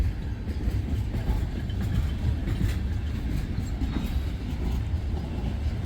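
Wheeling & Lake Erie freight cars, some carrying petroleum, roll past close by with a steady heavy rumble and faint wheel clatter, loud and continuous, no talk.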